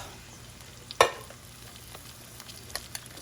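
Drained green beans dumped into a frying pan make one sharp clattering splash, then a quiet, low sizzle with a few faint stirring knocks.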